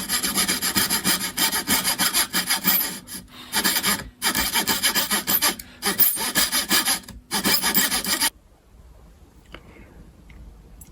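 A hand saw cuts through the thin wooden side of a parlour guitar to open a soundport, giving close, loud rasping strokes in quick bursts with short pauses, stopping abruptly near the end.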